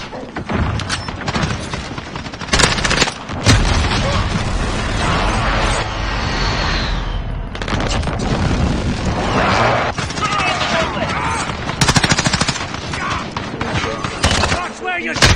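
Airstrike explosions and gunfire in Call of Duty Modern Warfare, a dense run of booms and rattling shots, loud and continuous, with game voices calling out over the din.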